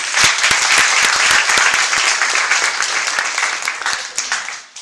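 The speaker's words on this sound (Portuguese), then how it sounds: "Vamos aplaudir a palavra de Deus." A church congregation bursts into applause together after the Gospel reading, a dense, steady wave of many hands clapping that fills the space and fades slightly toward the end.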